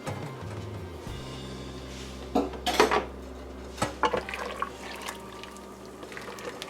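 A metal spoon stirs dhal with garlic, pepper and curry powder in a pot, giving a handful of sharp clanks and scrapes against the pot in two short bursts over a low steady hum.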